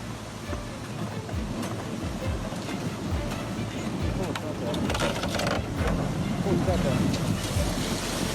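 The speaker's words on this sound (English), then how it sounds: "The flood rips out a massive drainage pipe" Flash flood water in Arizona tears out a road culvert and massive drainage pipe, giving a continuous loud roar of rushing water with heavy rumbling, while voices of people talking sit underneath.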